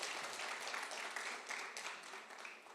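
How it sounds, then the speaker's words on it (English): Faint, steady applause from an audience at a public talk event, a soft wash of clapping heard from a distance that tapers slightly toward the end. "And Sonu, yes, huge round of applause."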